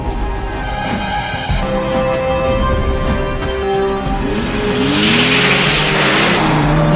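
A Mercedes SLK 320 with a V6 engine accelerates hard, its engine note climbing steadily in pitch and staying loud and close throughout, with no talking over it.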